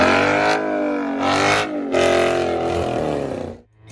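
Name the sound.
muscle car V8 engine rumble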